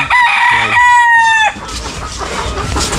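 A rooster crows loudly and close by, one long strained call, followed by quieter outdoor background noise.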